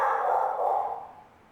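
A single drawn-out dog bark or howl sounds close by, strong at first and then slowly fading away over about a second.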